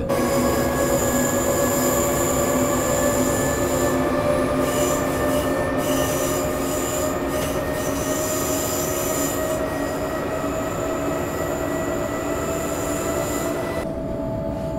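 An electric locomotive in the Train Simulator game, hauling the EC 287 to Innsbruck, runs with a steady, full hum and sustained tonal whine, plus squealing wheels on rail throughout, with no one talking.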